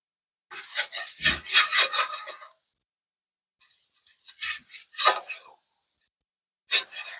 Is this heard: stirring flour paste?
yes